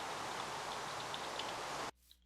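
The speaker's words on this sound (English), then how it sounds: "Oh, it's raining too." Steady rain in Minecraft, a broadband hiss of falling drops that fills the first two seconds at an even level, then cuts off abruptly into near silence with one faint tick.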